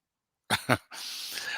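A dog gives two short, sharp barks or yips close by, followed by steady broadband noise with no talking.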